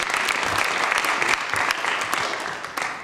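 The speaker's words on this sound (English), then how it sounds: "Give clap of unto Jesus." A church congregation claps for Jesus at a sermon, a dense, steady burst of many hands filling the room for about three seconds, with a little voice underneath.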